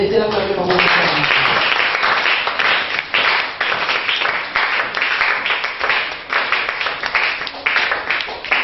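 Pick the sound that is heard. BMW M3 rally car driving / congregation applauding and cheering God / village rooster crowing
congregation applauding and cheering God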